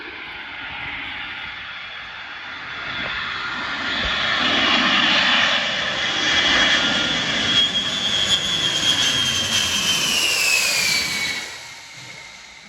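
A Boeing E-3 Sentry flies past with a loud, rising jet roar. A whining tone slides downward as the aircraft passes overhead, then fades toward the end.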